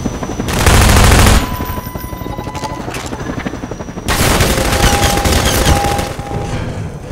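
Half-Life 2 gameplay of a helicopter being shot at: loud, sustained bursts of rapid gunfire with booming hits and a thin mechanical whine, filling the clip with no talking.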